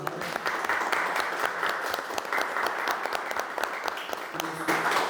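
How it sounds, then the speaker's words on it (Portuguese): A small audience at a hip hop knowledge-exchange event claps for Cris, the project's sponsor, a steady patter of hands at moderate distance with a few sharper nearby claps, continuing evenly throughout. "Peço uma salva de palmas para a Cris."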